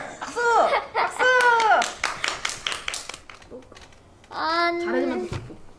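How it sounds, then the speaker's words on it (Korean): Group applause at a youth orchestra gathering, bursts of clapping mixed with children's voices, laughter and calls, loud and close, fading before a final voice rises. "박수! 박수!"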